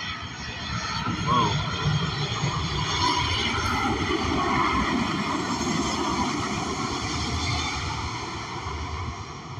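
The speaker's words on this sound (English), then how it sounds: "Oh, this low airplane right here." A low-flying fixed-wing airplane passes overhead, its engine a loud, steady broadband roar sustained throughout, with a person talking beneath the noise.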